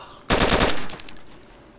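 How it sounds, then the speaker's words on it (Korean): Automatic M4A1 rifle fire in DayZ, one short burst of rapid close shots that rings out and decays into a fading echo, with no talking. "한번 써볼게요 M4 M4 소리가 좋아요"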